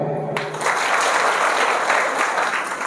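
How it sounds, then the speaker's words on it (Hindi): Schoolchildren at a moral education session in a school in Jharsuguda, Odisha, clap for themselves; the applause starts abruptly after a brief moment and then holds as a full, steady roar of many hands. "आप लोगों ने सच बोला, कम से कम अपने लिए ताली बजाओ"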